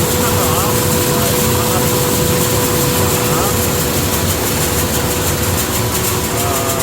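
Electric motors drive rice mill machinery inside an old rice mill, giving a loud, steady mechanical drone with a constant hum and rattling that runs unbroken throughout.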